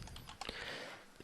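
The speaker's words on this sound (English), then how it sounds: "you just start typing" A few soft keyboard taps from typing into a field, brief and close, set against a steady background hiss with no speech.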